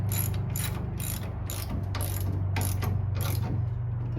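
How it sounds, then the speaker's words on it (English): A ratchet tightening a lock nut on a Ford Model A luggage rack, giving about eight quick, evenly spaced clicking bursts over a low steady hum. The sound is close and clear, with no talking. "So you're just going to tighten this up."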